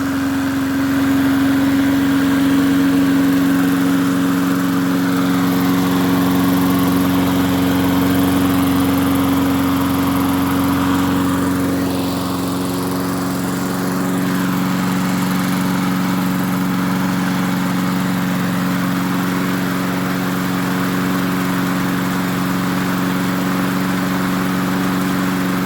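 An MTD 22-inch push lawn mower's small gasoline engine runs steadily with a strong, even drone throughout, loud and close, with a slight dip and recovery in the middle.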